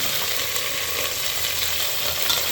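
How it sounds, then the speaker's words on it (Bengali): Vegetables for khichuri frying in a pan, a steady, dense crackling sizzle held at an even level throughout with no talk. "এবার এই সবজিগুলো আস্তে আস্তে ফ্রাই করবো"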